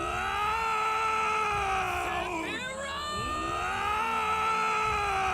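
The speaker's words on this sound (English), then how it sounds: "Oh god, stop screaming." Animated characters screaming in a fan-made Final Fantasy VII parody, a sustained, loud, wavering scream with shifting pitch that dips briefly midway, then resumes.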